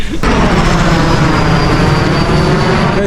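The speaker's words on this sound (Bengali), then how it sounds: "এখানে পাঁচ মিনিট পর পর হেলিকপ্টার যাতায়াত করতেছে" A loud, continuous rumbling roar of a helicopter passing overhead fills the whole stretch, steady and broadband with no talking.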